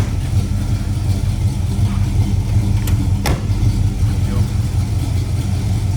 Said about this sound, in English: Great running, sounding muscle car.